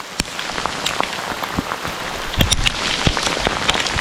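Hailstones pelt the ground and surfaces during a summer storm in Norway, a dense, steady patter with sharper individual impacts scattered throughout, close and fairly loud with no voices.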